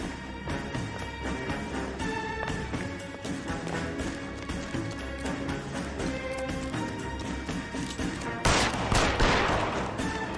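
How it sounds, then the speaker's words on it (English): Gunfire in the L.A. Noire video game rattles out in repeated rapid bursts over a busy game soundtrack, with a louder, sharper volley near the end. "He's shooting."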